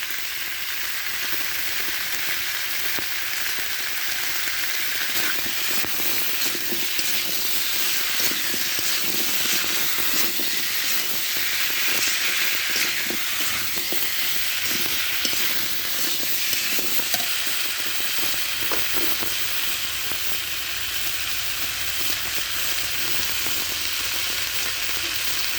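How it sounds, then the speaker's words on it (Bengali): Potatoes frying in a pan with salt for a potato curry with live magur fish, a continuous loud sizzle and hiss with occasional stirring scrapes, and no talk. "আগে আলু কষি নেব"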